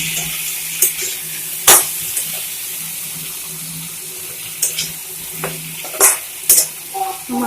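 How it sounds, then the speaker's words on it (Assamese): Fish curry with potatoes being stirred in a frying pan: scattered scraping clinks of the spoon against the pan over a steady low sizzle, close and fairly quiet, with no talking. "এবাৰ লৰাই দিম।"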